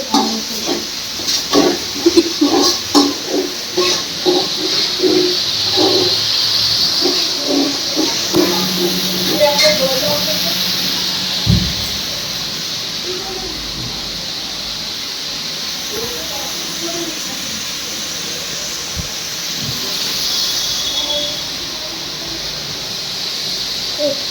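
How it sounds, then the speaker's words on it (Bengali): Rice boiling in a large pot for a Nanda festival offering meal, a continuous steamy hiss and bubbling that runs throughout, with clatter early on and people talking nearby at times. "চালটা সেদ্ধ হচ্ছে"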